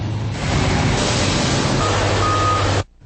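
A giant mining truck, heard from underneath, with a dense roaring engine wash and a steady mechanical tone that runs for almost three seconds, then cuts off abruptly.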